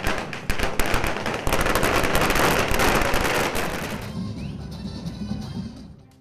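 A dense, loud volley of crackling firecracker bursts outside a cinema celebrating the release of the film Beast, rapid and overlapping, thinning out into fainter scattered pops toward the end.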